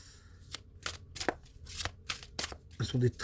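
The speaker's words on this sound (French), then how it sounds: "C'est des très grandes cartes. Ceux-là, pour les mélanger, c'est pas simple." Very large fortune-telling cards are shuffled by hand in a series of close, crisp riffling and slapping bursts at an uneven pace, with a voice speaking softly at times.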